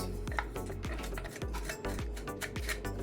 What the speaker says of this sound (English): the pot is hot and the garlic is being sauteed